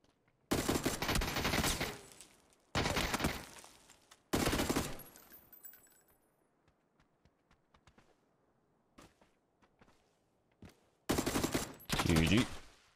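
Heavy gunshots in a PUBG match, several loud, sharp blasts spaced a second or two apart, then quieter distant pops and clicks before two more close shots.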